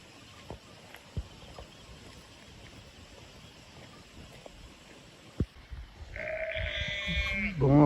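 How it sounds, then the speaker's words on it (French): A sheep on a small island bleats loudly near the end, a couple of wavering calls rising over quiet outdoor ambience with a few scattered knocks earlier. "Un mouton sur son île privée."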